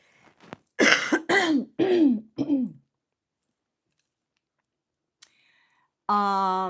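Four harsh coughs in quick succession, close and loud, followed by silence and a short voiced sound at the end.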